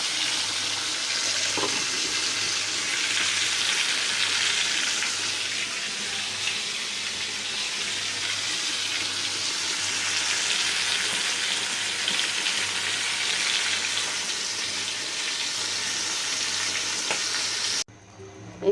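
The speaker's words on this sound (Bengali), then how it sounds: "এক চুলায় মাছটা ভাজতেছি" Fish fries in oil on a stove burner with a steady, bright sizzle that holds for most of the stretch before cutting off abruptly near the end.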